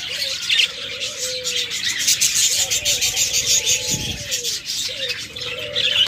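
A pair of rainbow lovebirds kept for sale calls nearby in short, repeated chirps and trills, with brief squawks and a low coo mixed in, over a busy room tone.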